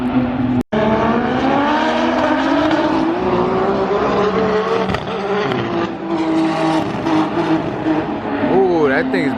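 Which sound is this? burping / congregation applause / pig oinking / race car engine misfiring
race car engine misfiring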